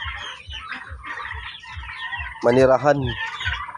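A rooster and other poultry, turkeys among them, cluck and squawk in a coop, with a loud harsh burst of calling in the middle over steady pecking and background noise, and a voice briefly audible.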